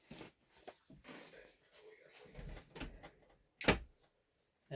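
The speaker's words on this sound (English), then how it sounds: "I'm just going to shut the door." A room door is pushed shut indoors with a single sharp thud, heard close by after faint talk and shuffling, while a television plays in the background.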